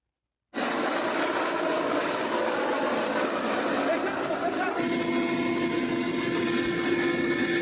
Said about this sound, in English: There's a helicopter flying above.